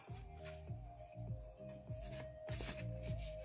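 Paper journal cards are handled and shuffled during a craft subscription box unboxing, with soft, repeated rustling and flicking bursts over a steady low hum.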